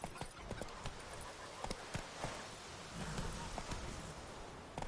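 Horse hooves clip-clopping at a steady trot in the video game Witcher 3, a continuous even rhythm over a dense rain-like wash, close and moderately loud.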